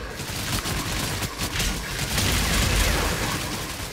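Bombing explosions and bursts of gunfire rumble through a desert battle in the shooter game Outriders, a dense, continuous barrage of booms and shots that swells louder toward the end.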